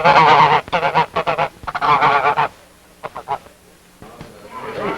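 Geese honk loudly and close in rapid, repeated bursts that pause, then come back more softly.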